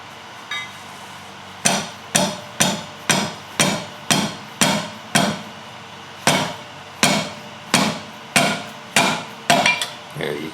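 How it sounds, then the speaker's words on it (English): A hammer taps a brake part on a 2002 Chevrolet Tahoe during a brake job, about fifteen sharp metallic strikes in a steady rhythm, close and loud, nearly alone. "Now turn that way and then tap that with your hammer."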